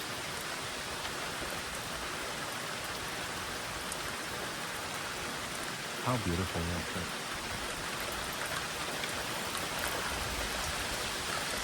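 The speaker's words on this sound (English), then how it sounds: "I'm gonna keep enjoying this rain while it lasts." Steady rain falls on open land in Texas, a constant soft hiss of drops throughout; a person speaks briefly partway through, quietly beneath the downpour.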